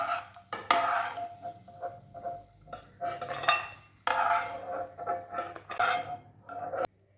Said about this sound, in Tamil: கிஸ்மிஸை அதிலே போட்டு ஃப்ரை பண்ணி எடுத்துக்கலாம்.